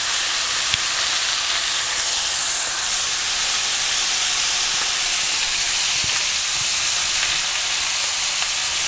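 Ribeye steaks sear and brown in a hot pan, giving a loud, steady, dense sizzle and hiss with no talking.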